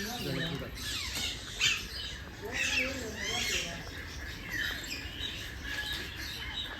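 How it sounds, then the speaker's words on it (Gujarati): Indian parrots in a park aviary at Kamati Baug, Vadodara, squawk and chatter in repeated harsh, rising calls over a steady bed of mixed bird chirps, fairly close and moderately loud. "બાકી આ બધા પોપટ છે ઇન્ડિયન પેરોટ."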